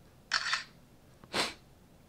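A Doogee S100 rugged phone fires its camera shutter sound, two short crisp clicks about a second apart, close and fairly quiet against a still background.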